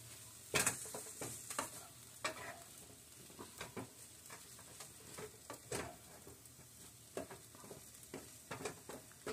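Mushrooms stir-fried with almond milk in a pan for a curry-powder egg dish: soft, scattered scrapes and clicks of a utensil tossing the food over a faint, quiet sizzle, heard alone without voices.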